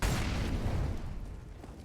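A grenade detonates in a Counter-Strike match on the Vertigo map, a single loud boom up front that decays into a rumbling tail.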